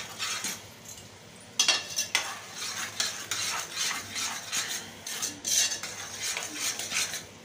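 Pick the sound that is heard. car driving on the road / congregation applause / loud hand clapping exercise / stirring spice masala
stirring spice masala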